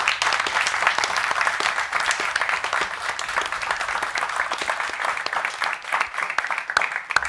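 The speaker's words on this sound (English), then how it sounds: "Let's give them a round of applause." Audience applause at a university event's final tribal council, a steady dense wash of many hands clapping at fairly close range, sustained throughout without a break and with no voices talking over it.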